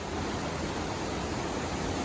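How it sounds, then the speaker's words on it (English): Steady roar of a large waterfall plunging over a cliff on a wooded peak at Smoko Falls, a dense unbroken rush of falling water heard from a distance, continuous and even throughout with no voices. "So that's the waterfall that drops over a cliff"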